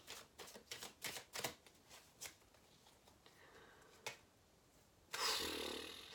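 Tarot cards shuffled by hand in a quiet room, with a quick run of crisp riffling bursts, a few isolated flicks, then a final louder rush of cards being squared together.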